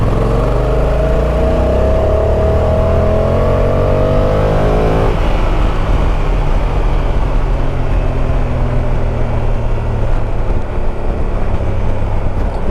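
A 2025 Honda NT1100 motorcycle accelerates hard, its engine note climbing through the revs, then a gear change drops the pitch and the bike pulls on under loud, constant wind rush.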